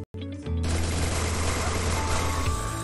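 Rapid automatic gunfire from the Free Fire video game, a sustained dense burst that starts after a brief pause and runs loud and continuous to the end.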